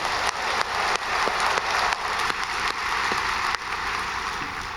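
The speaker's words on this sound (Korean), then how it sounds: "격려의 박수 한번 하겠습니다." A church congregation claps in encouragement during a Friday all-night service, a dense, steady wash of applause held at an even level throughout with a few sharper accents.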